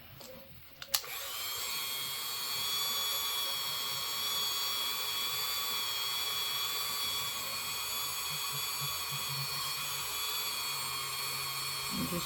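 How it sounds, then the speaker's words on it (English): Tiny high-pitched rotary drill boring through a polymer clay bead, a steady whining tone running continuously after a click as it starts, close and fairly loud. "I've got a really tiny drill on here."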